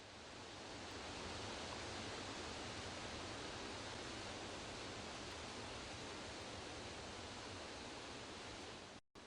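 Loud, steady rush of water from waterfalls and short-lived brooklets pouring down mountain slopes in the Putorana region, a dense continuous roar that fills the scene and breaks off abruptly at the very end.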